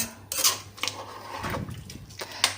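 A spoon scrapes and clinks inside a pot as rock sugar and sugar are stirred into rice payasam, a few short metallic knocks and scrapes, close up and with no talking.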